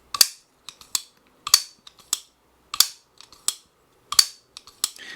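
Sharp metallic clicks and snaps in quick clusters from a Holt Bladeworks Specter Prestige pocketknife opening, several crisp mechanical openings repeated close up with brief silences between them.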